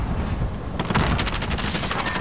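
Sustained automatic gunfire in Call of Duty Modern Warfare aimed at an enemy UAV overhead, a dense rattling stream of shots that grows louder and more rapid partway through, with steady game noise underneath.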